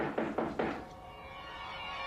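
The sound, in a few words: knock at the door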